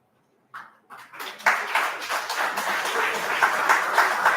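An audience at a conference talk on holistic health and the AYUSH system begins clapping after a brief silence. A few scattered claps quickly build into sustained, moderately loud applause filling the hall.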